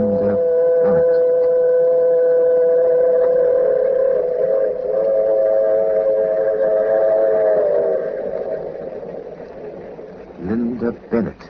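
Steam train whistle sounding a long, loud sustained tone as a radio drama sound effect, holding steady before fading out over the chugging rumble of the train.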